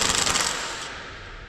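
A rapid metallic rattle of an impact driver or ratchet working a 21mm pinch bolt loose with a 19mm socket on a fire engine, close and loud at first, then easing into a softer whir as the bolt comes free.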